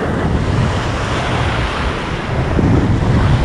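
Big waves surge near a bridge in a continuous heavy roar, with strong wind buffeting the microphone and swelling louder near the end.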